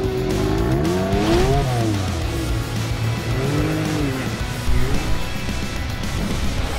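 A vehicle, likely a UTV or side-by-side, drives a dealership test track, its engine rising and falling in pitch with revving and a brief tire squeal, steady and fairly close throughout.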